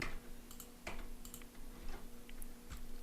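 Keys tapped on a computer keyboard, including the tab key, a few sparse light clicks spaced irregularly over a quiet room hum, close and fairly faint.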